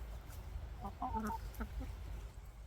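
A small flock of hens gives a few soft, brief clucks in the middle, faint against a low background rumble.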